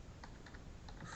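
Typing on a computer keyboard comes through as a quick run of soft, close key clicks over a faint background hiss.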